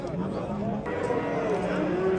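Cattle at a livestock market call with drawn-out low moos over the general crowd noise and murmur of the market, with people talking in the background.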